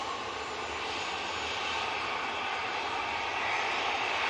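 An Airbus A320 jet at Manchester Airport gives off a steady, broad roar of engine noise that holds at an even level throughout without people talking.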